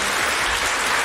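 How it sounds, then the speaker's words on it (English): Brief applause sound effect marking the end of a debater's time in a soccer fan battle. Thick, steady crowd clapping, loud and unbroken, with no talking. "the applause means your time is up"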